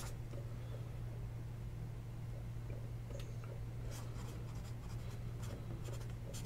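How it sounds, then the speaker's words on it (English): Handwriting with a pen on paper during a card break: faint scratchy strokes and a few light taps over a constant hiss and low hum, close and quiet, with no talking. "Let me write it down before I forget."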